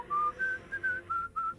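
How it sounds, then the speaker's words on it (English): A whistled tune plays in the video game Zeus: Master of Olympus, a short run of six clear, level notes with brief gaps between them. "I was hearing the whistle and I was like, what is this?"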